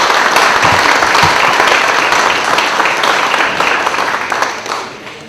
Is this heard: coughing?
no